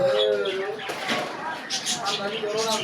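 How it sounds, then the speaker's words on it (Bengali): Pigeons coo at a bustling pigeon market, soft repeated coos mixed with chirps, close and moderately loud, while someone talks over them. "বিভিন্ন ধরনের কবিতরা এখানে আছে"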